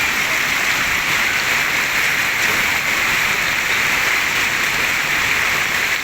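Heavy rain with hail pours steadily in Bahria Town, Rawalpindi, a dense, unbroken hiss that stays loud and even throughout, with no voices.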